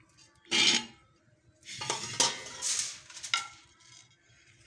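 Metal pressure cooker and pots clatter and clink in several bursts, close by, with brief pauses between handling noises, while cooking mutton.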